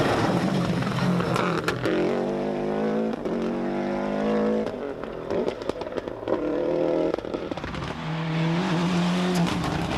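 A rally car races flat out along a stage at the 1996 Donegal International Rally, its engine loud and close as it revs hard through gear changes, with brief lifts and crackles between sustained high-pitched pulls.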